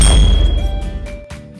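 A notification bell dinging once, a bright, clear chime with a long ringing tail that fades slowly, loud and close with no voices.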